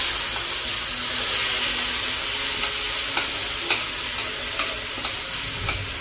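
Food frying in a pan gives a steady, loud sizzling hiss with occasional faint clicks of stirring, close and continuous, with no voices.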